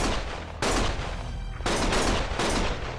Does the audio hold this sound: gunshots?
yes